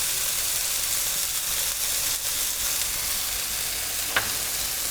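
Beef stir fry sizzles steadily in a hot pan with garlic, ginger, coriander, cumin and paprika, a constant loud broadband frying hiss throughout with one brief sharper crackle near the end.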